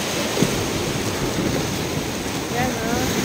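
Rough morning sea at Lobo, Batangas churns in a steady, loud wash of surf with gusty wind buffeting the microphone, and a voice speaks briefly now and then.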